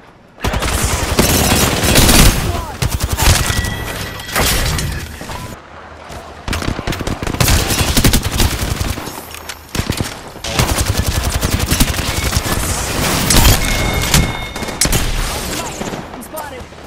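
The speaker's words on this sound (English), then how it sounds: "Getting shot at." Dense gunfire in a shooter video game, with rapid automatic bursts and overlapping shots that go on almost without a break, loud and close.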